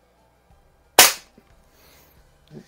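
One sharp, snappy shot from a Daisy 753S single-stroke pneumatic air rifle cracks out in a quiet space, followed by a faint click a moment later.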